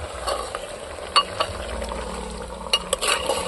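A ladle stirs chicken frying in a clay pot, with a continuous soft sizzle and a few sharp knocks and scrapes of the ladle against the pot.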